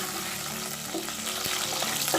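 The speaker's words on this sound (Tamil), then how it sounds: "நல்லெண்ணெய் சேர்த்துட்டு பூண்டு சேர்த்துக்கணும். நல்லா இதை வதக்கிடணும்." Garlic fries in sesame oil in a kadai for a garlic rasam, giving a close, steady sizzle with light stirring scrapes throughout the short stretch.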